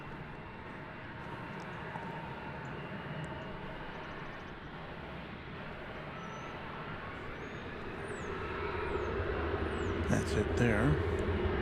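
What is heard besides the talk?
American Eagle Embraer 175 taking off at DFW Airport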